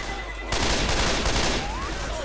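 Gunfire in the Left 4 Dead 2 video game breaks out suddenly after a quiet moment and carries on as a dense, continuous rattle of automatic shots, close and loud.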